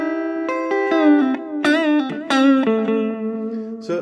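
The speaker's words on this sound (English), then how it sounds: "a delay and an echo are essentially the same style or type of effect" Electric guitar played through an amplifier's echo/delay effect, comparing Blackstar, Roland and Orange amps: a loud sustained phrase of picked notes, each trailing off into repeating echoes that add depth, with no talking.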